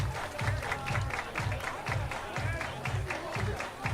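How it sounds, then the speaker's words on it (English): Fans at a baseball game clap in unison, about eight evenly spaced hand-claps on a steady beat with a murmuring crowd in the background. "Everybody clap your hands."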